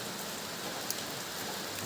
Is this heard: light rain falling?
yes